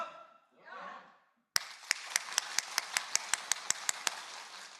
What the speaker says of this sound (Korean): 박수 한번 쳐보겠습니다